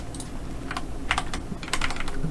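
Computer keyboard keys pressed in scattered bursts of quick clicks, close and moderately loud, with short pauses between groups and no voices.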